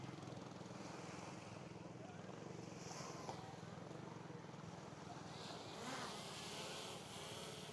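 A steady high-pitched buzzing whine of a DJI quadcopter drone hovering at a distance on a windy day, continuous and even, with faint wind noise underneath.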